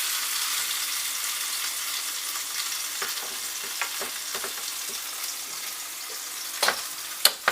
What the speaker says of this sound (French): Ici, on a déjà notre graisse qui a chauffé. Donc, je vais simplement mettre le saumon. Je vais le mettre à cuire là.